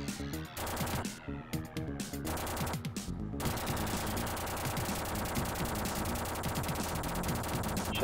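Rapid shotgun and gunfire blasts from the Terminator 2 arcade video game, loud and dense, starting as separated bursts and then running into a continuous barrage of shots.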